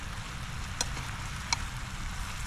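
Steady, dense sizzling of fish frying in a thin pan, with a couple of faint clicks over the hiss; no talking.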